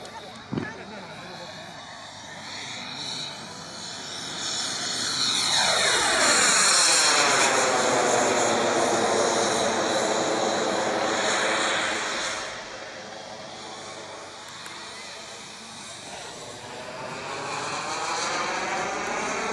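A radio-controlled A-4 Skyhawk scale model jet, roughly 14 kg, flies past with a rising then falling turbine whine and a Doppler sweep, loud at close range before fading as it moves away at a festival airfield.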